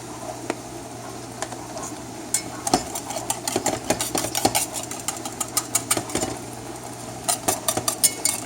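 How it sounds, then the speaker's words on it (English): A thick custard of milk, egg and honey bubbles in a pan, making irregular popping splatters that grow denser over a steady low hum, with occasional utensil clinks. "The consistency is getting really nice and thick now. It's also splattering all over my kitchen."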